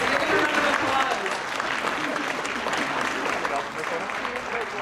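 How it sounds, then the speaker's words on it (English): At a teacher education coin ceremony, the audience gives a loud, sustained round of applause for graduates' families, dense crowd clapping with voices mixed in. "give them a round of applause"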